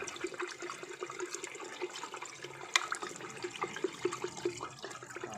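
Liquid solution is stirred after salt is added during silver recovery from IC chips, giving soft sloshing and small clinks against the container at a low, steady level.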